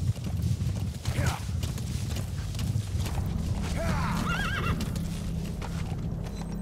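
A horse whinnies and its hooves clip-clop close by in the video game Metal Gear Solid V, with a loud neigh near the start and another midway over steady ambient game noise.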